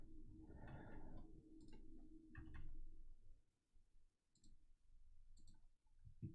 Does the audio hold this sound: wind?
no